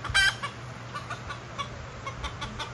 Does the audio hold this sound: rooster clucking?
yes